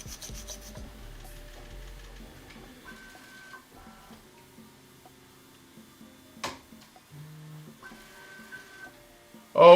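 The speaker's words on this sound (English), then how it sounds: "So I'm gonna go ahead and file this down a little bit." Hand file rasping a 3D printer part for an Ender 3 CoreXY conversion, quiet scraping strokes with some faint background tones and a louder knock at the end.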